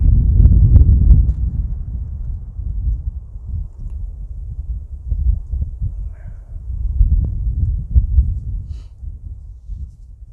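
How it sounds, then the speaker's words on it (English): Strong outdoor wind buffets a microphone at a woodland creek, with heavy low rumbling gusts that surge and ease across the whole stretch, loudest at the start and again near the end. "the wind is pretty bad"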